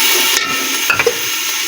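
Yogurt frying in a pot for white beef pulao gives a steady hiss with a brief louder sizzle and stirring bursts near the end, close and alone.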